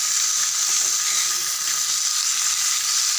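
Fish frying crisp in hot oil in a pan, a dense, even hiss and sizzle that holds steady and loud throughout, close up, with no talking.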